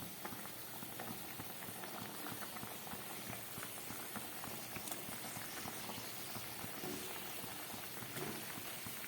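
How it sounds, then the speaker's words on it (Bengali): Bengali vegetarian kofta gravy bubbling at a steady boil in a pot on a gas stove, a dense continuous hiss of popping bubbles and spatter, close and even throughout with no voices. "ঝোলটা ফুটে উঠেছে।"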